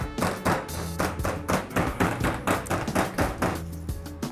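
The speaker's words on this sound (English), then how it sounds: "crush so it's slightly easier to start pounding it, a bit of sweet pimenton, a pinch of salt" Spices, sweet pimenton and salt are pounded into a paste in a mortar for pinchos morunos, making steady, loud, close thuds at about two to three strikes a second without any speech.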